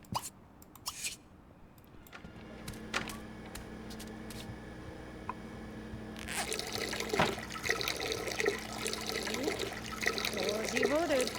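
Running shower water in The Sims 2 swells into a steady, hissing spray. Quieter clicks and game sounds come first, and faint music plays underneath.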